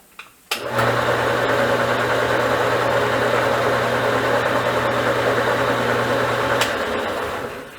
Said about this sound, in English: now that I know the motor's working